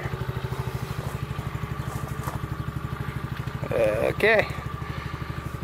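A Coolster ATV-3125XR-8U 125cc ATV engine idling close by with a rapid, even putter, while a person speaks briefly over it near the end.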